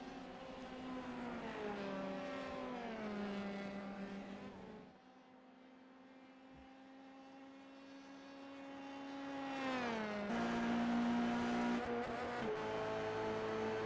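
Race cars lapping Mosport in the iRacing sim, engines whining loudly as they climb through the gears, easing off, then surging again with a rising, upshifting roar.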